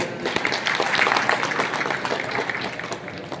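An audience at a wedding celebration in Karnataka gives sustained, dense applause, many hands clapping fairly loudly and evenly throughout.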